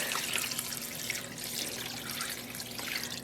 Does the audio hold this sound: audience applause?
no